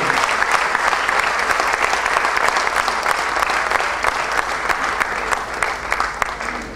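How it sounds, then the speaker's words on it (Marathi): Loud, steady applause from a large audience at an awards ceremony, honouring the poet Padgaonkar, sustained without a break from start to finish. "पाडगावकर सरांचं आपण जोरात टाळ्या वाजवून आपण कौतुक करूया"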